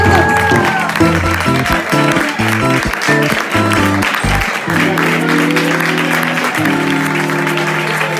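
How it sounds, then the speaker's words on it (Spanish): An audience at a singing-contest semifinal in a bar applauds the semifinalists, a loud wash of clapping mixed with background music playing underneath. "Un aplauso para"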